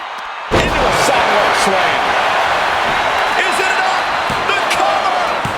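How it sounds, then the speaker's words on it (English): A pro wrestler slammed onto the ring mat from a sidewalk slam at a televised Monday Night Raw event, one sharp loud impact followed by a constant roaring arena crowd. "Into a sidewalk slam."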